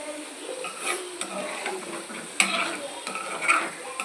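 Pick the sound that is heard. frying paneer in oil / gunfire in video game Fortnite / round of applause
frying paneer in oil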